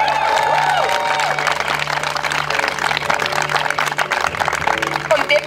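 A crowd applauding and cheering at a youth Relay for Life fundraiser at Collège Esther-Blondin in Québec, dense clapping with whoops and shouts, loud and continuous, with a voice briefly heard over it.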